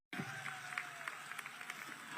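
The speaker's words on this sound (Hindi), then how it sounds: "ऐसी तालियां बजाओ पिपराई की मंडी में," Sustained clapping from a large crowd at a political rally in Pipariya's market ground, steady and dense with a few sharper claps standing out.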